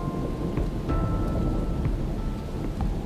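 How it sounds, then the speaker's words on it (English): Heavy rain pours in the Australian bush with a dense, steady hiss while low thunder rumbles continuously underneath, loud and close with no voices. "the rain just gets to be a bit too much"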